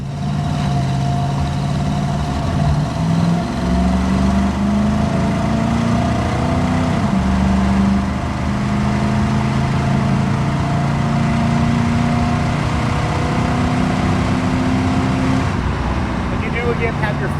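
A 1970 Chevrolet El Camino SS with a numbers-matching 396 V8 and automatic gearbox rumbles on a test drive, its engine note rising and falling through gear changes, steady and close under road noise.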